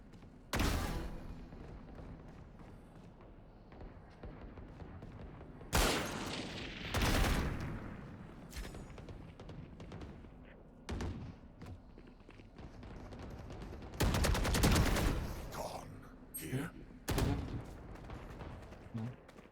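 Video game gunfire, bursts of bullets sprayed at an enemy, several sharp clusters of shots separated by quieter stretches with faint footsteps, fairly quiet overall.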